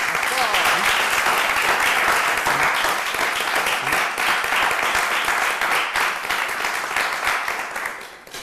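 A studio audience gives sustained, loud applause for guest Jean-Paul Baya, dense clapping that holds steady for several seconds and fades near the end, with voices mixed in beneath it.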